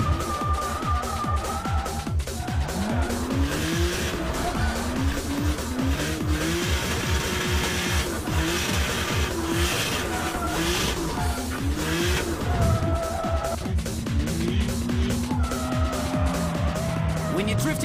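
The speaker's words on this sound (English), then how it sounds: "Drifting into a corner at 180" A drift car slides fully sideways through a corner at Manfield at over 180 km/h, its engine revving hard and tires squealing in long rising and falling tones throughout, loud and continuous, with a commentator's voice over it.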